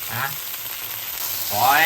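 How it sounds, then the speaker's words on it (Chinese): Oyster omelette frying in a pan, a brief, steady close sizzle that swells slightly toward the end, with faint traces of a voice at the edges. "煎到呢，我自己喜欢脆一点的，所以呢我会深色一点的煎到"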